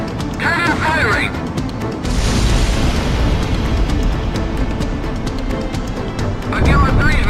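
Ace Combat's shock cannon fires with a heavy, sustained blast and rumbling roar that swells loud, while radio voices talk over the start and end.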